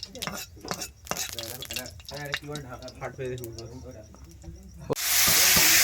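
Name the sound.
tempering spices sizzling in pan for chutney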